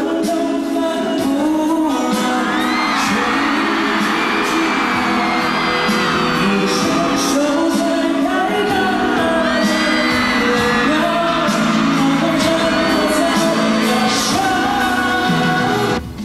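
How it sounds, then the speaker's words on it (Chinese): A large arena concert audience screaming and cheering continuously, a dense, loud wash of high-pitched shrieks and whoops that swells and holds throughout. "现场尖叫声连连"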